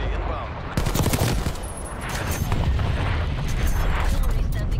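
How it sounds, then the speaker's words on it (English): Heavy, rumbling explosions from an incoming artillery strike in Call of Duty Black Ops Cold War, on the Moscow map, booming continuously with crackling gunfire mixed in. "Artillery inbound."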